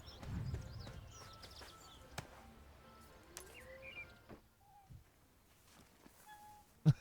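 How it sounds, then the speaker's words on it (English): A cat meows softly a few times in the video game ArcheAge, short faint tones over quiet game ambience and scattered clicks. "Here's the cat."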